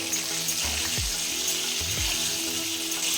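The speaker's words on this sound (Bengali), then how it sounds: "ভাজার সময় অল্প হলুদ, অল্প লবণ দিয়ে মিশিয়ে মিডিয়াম ফ্লেমে" Sliced pointed gourd fries in oil with turmeric and salt over a medium flame, a steady broad sizzle holding throughout, broken by a few sharp scraping strokes of a utensil against the pan.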